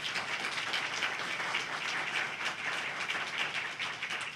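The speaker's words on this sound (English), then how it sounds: "let's give them a warm round of applause." Warm round of applause from a room audience at a community information program with the county solicitor's office, dense steady clapping throughout, moderately distant.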